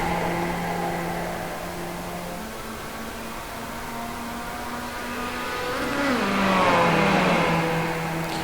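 Mazda race car engines in the iRacing sim drone at a steady pitch, then climb and shift as the cars pass, a layered mid-volume engine whine that swells toward the end, with no talk.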